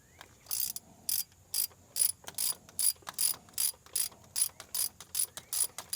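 A hand ratchet runs in the cylinder head bolts on a GMC 6.0 engine, giving quick bursts of crisp clicking strokes in a steady back-and-forth rhythm, close and clear.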